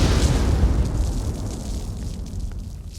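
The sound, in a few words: explosion in Forrest Gump Vietnam battle scene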